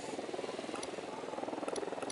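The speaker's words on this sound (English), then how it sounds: "Deploying drone." Drone hovering in Ghost Recon Wildlands, a steady buzzing rotor whine that holds at an even, fairly close level throughout with a slight pulsing flutter.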